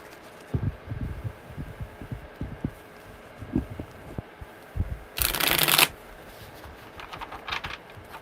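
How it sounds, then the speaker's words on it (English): Tarot cards shuffled by hand, with soft irregular taps and riffles followed by one burst of loud, rapid card riffling near the end. "One more good shuffle"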